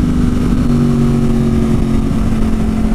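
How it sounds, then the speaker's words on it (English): A 2009 Yamaha R1 motorcycle engine runs loud and steady, recorded up close on the bike during a clutchless downshift, with a continuous buzzing drone and slight shifts in pitch partway through. "I just did a clutchless downshift."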